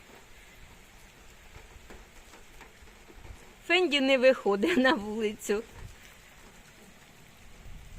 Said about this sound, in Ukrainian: Дощ не на шутку розляпався.